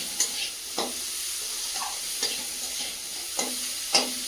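Shrimp fries with turmeric in a pan before winter vegetables go in, giving a steady close sizzle broken by several sharp clicks and scrapes of a stirring utensil, with no talking.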